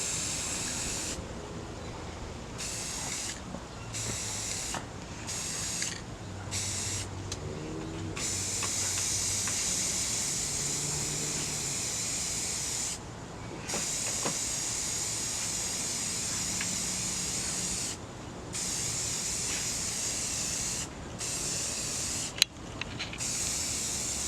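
Rust-Oleum Magenta satin spray paint hissing onto a tumbler in repeated close bursts, each steady spray broken by brief pauses, with a faint background hum.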